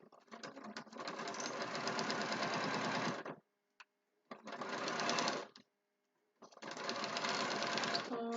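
A sewing machine stitches fabric spool shapes in three long runs of fast, even clatter, each lasting a few seconds and broken by short pauses, loud and close with no talk over it.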